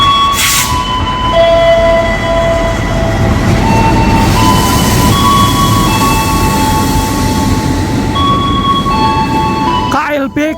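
Train cars rolling through a railway station in Indonesia, a loud, continuous rumble with metallic wheel squeals and ringing tones, with a brief clatter near the end.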